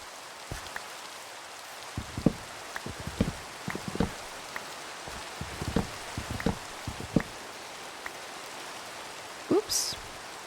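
Minecraft rain pours as a constant broad hiss, moderately loud, with occasional soft taps and clicks scattered over it and a brief brighter sound near the end.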